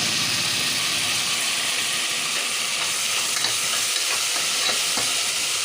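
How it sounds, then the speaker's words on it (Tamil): Tomato and mint stir-fried in a pot for vegetable biryani, a dense, steady sizzle close by with a run of quick scraping stirs partway through. "அப்புறமா தக்காளி புதினா போட்டு அது நல்லா கலக்கி விட்டுடணும்"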